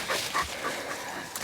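A Brittany hunting dog out on an early-season ruffed grouse hunt gives a few soft yips and whimpers, with panting close by over about a second and a half of quiet woodland air.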